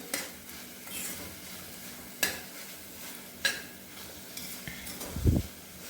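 Vaseti bhaji, a Gujarati leafy-greens dish, stirred in a pan: a few separate scrapes and clinks of the spoon against the pan over a soft sizzle, ending in a louder stir.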